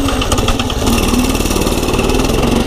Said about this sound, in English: We're riding this free pit bike right now.